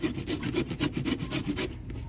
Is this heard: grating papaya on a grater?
yes